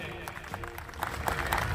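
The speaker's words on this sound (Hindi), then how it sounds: "भाई गोविंद जी के नाम से एक ताली बजाएं" An audience at a gathering at Sant Kabir Vatika in Sirsa applauds, a dense patter of many hands that builds and grows louder toward the end, with voices mixed in.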